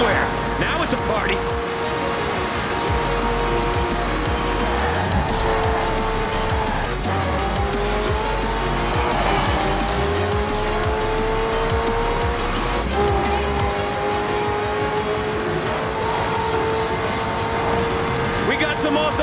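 Race cars, hypercars and racing trucks roar and rev in Forza Horizon 4, with tire squeal and skids and engines climbing through gears, loud and continuous under an excited commentator's voice.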